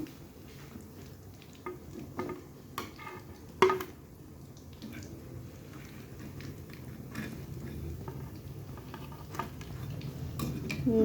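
Fried pakoras being lifted out of a pan of hot oil with a spoon, giving a soft steady sizzle with scattered metallic clinks and scrapes, fairly quiet and without talk.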